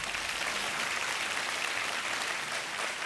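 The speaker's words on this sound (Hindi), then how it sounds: "तालियां बजती रहनी चाहिए" Studio audience on a Hindi TV quiz show applauding after a contestant wins 80,000 rupees, steady dense clapping filling the whole stretch at moderate level, with no talk over it.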